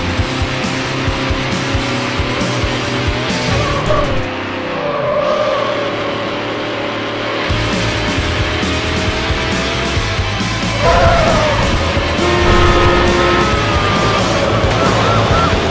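Cars racing in Need for Speed Hot Pursuit 2 during a police pursuit: steady engine drone and rising revs from nearby vehicles, with a siren-like wail and brief radio chatter layered over the continuous roar.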